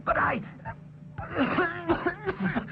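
A single rough throat-clearing cough, followed by a person speaking close by.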